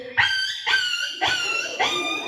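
A voice imitates a dog yelping at a school mimicry competition: four sharp, whining yelps in quick succession, close and fairly loud.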